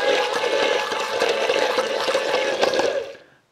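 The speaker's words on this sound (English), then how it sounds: "Now we'll go in with a little bit of oil." Neutral oil poured in a steady, liquid stream into a roe mayonnaise, a continuous close trickle lasting about three seconds before tapering off.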